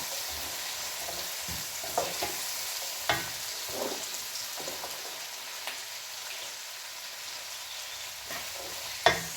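Onion fries in a pan for an Indo-Chinese dish, giving a steady, fairly quiet sizzle broken by the sharp taps of stirring.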